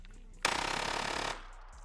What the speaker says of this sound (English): All right, we're gonna dump another mag.